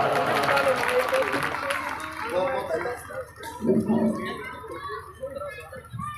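An audience at an All India competition event in Budhana, Muzaffarnagar claps in welcome, a full burst of applause that thins out after a couple of seconds into scattered claps and voices talking nearby.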